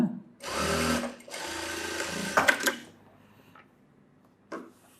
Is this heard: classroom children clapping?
no